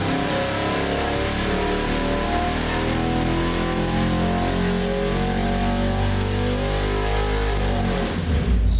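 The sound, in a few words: Ford 408ci Windsor engine revving on a dyno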